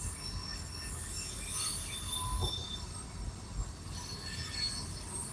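A train rolls past with high metallic wheel squeals rising and fading over a low rumble of cars on the rails, heard from a moderate distance without any talk.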